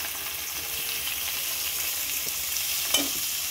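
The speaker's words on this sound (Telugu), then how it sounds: "సన్నగా 2 ఉల్లిపాయలు దీంట్లో వేసుకోవాలి." Thinly sliced onions and two slit green chillies fry in hot oil for a chicken curry, giving a steady close broadband sizzle with one brief stir or clink near the end.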